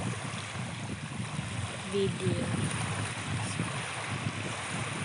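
Seashore with waves and wind: a steady, broad wash of surf and gusting wind roaring close to the microphone, with a person speaking over it.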